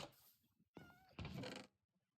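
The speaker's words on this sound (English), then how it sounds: "Kitty cat." A Minecraft cat gives a couple of short, close meows, soft and alone, during survival gameplay.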